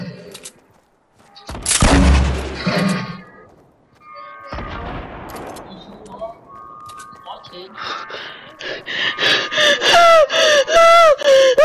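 Gunfire in the video game Fortnite, heard as bursts of shots and booms that grow into a dense run of rapid, evenly spaced blasts toward the end, with an excited voice gasping and talking over it.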